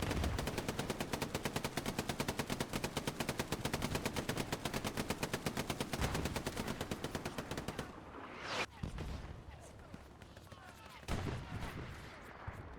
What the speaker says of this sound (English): Victim of MG fire, and a lot of it from Big Red